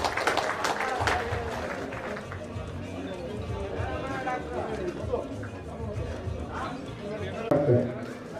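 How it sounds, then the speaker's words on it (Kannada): An audience applauds at Rebel Star Ambareesh's 72nd birthday celebration as a cash award is presented, with steady clapping blended into loud crowd chatter and voices throughout. "ತಾವೆಲ್ಲರೂ ಚಪ್ಪಾಳೆಯ ಮೂಲಕ ಅವರನ್ನು ಅಭಿನಂದಿಸಬೇಕಾಗುತ್ತದೆ"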